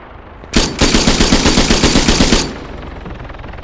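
A rapid burst of automatic gunfire from Arma 3, roughly two seconds of loud, close, evenly spaced shots in quick succession, followed by a faint lingering tail.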